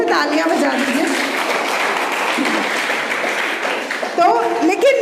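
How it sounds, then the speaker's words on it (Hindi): A school audience applauds for Saloni at a Harela event at Bhavani Balika Inter College, Dehradun, with moderate clapping running under a voice that speaks over it throughout. "थैंक यू सलोनी के लिए जोर से तालियां बजा दीजिए।"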